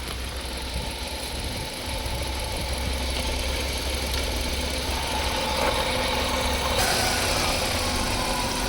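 Petrol Hyundai Verna idles steadily up close with a smooth, even hum and a faint mechanical ticking throughout, with no talking.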